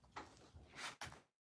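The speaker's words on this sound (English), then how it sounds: "Can you close the door, please?" An indoor door is pulled shut in a home study, giving a couple of quick soft knocks and a latch click, then sudden quiet.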